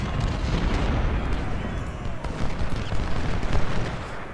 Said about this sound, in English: Our artillery is opening up.